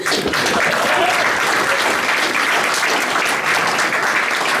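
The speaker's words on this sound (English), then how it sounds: "So let's give a round of applause for them." Sustained applause from the guests at a wedding during the speeches, honoring the newly married couple; a dense, steady wash of many hands clapping that holds evenly loud for the whole stretch.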